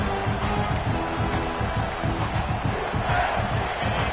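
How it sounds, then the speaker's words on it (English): Stadium crowd roar in a college football video game during a rivalry week dynasty game, a steady loud wash of cheering noise throughout, with faint commentary underneath. "The roar of the crowd trying to fuel this defense to keep them pinned in their own end"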